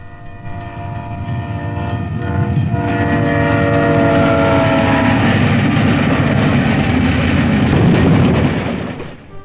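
A train roars past a crossing, its horn sounding in long chord blasts as the rumbling, rattling cars build to a loud pass and then fade.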